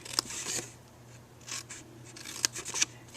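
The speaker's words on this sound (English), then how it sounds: "cut up to the score line, and then cut that piece off" Scissors snip through paper along a score line while making a Thanksgiving favor box, a few close, crisp cutting strokes with quiet rustling between them.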